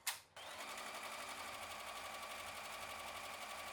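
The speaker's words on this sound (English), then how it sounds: "Now you're going to bring your hoop to your machine and begin to stitch out the design." An embroidery machine stitches out an in-the-hoop stained glass ornament design, giving a steady, fast mechanical whir with rapid needle pulsing that runs continuously at close range after a brief start.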